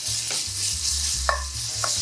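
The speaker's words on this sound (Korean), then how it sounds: "다진 마늘 1숟가락 넣어주시고요." Minced garlic fries in a couple of spoonfuls of canola oil, a steady close sizzle carrying on alone, with a few soft stirring scrapes and brief clinks at the pan.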